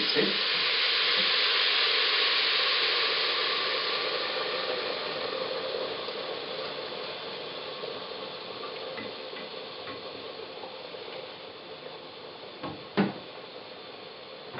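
Hot water poured into a pan of fried rice for tehari sends up a loud, rushing sizzle that gradually settles into a softer crackle, with a single knock near the end.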